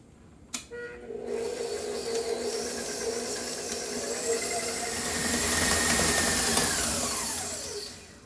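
An electric stand mixer whirs steadily while creaming butter and sugar with egg yolk for gluten-free cookie dough, starting after a brief clatter and holding a high, whining motor tone that swells slightly toward the end.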